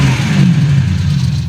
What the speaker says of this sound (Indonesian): Kali ini suara mesinnya kenceng banget, seperti digas-gas gitu loh.